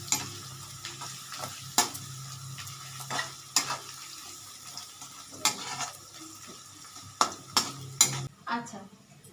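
Garlic frying in a pan, a soft continuous sizzle punctuated by sharp spatula scrapes and metallic clinks against the pan at irregular intervals, close and moderately loud.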